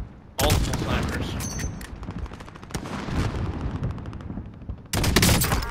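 Sniper rifle fire in Call of Duty Warzone, with several loud, sharp shots rising above a dense, steady layer of game noise and rumble, and a heavy burst of fire near the end.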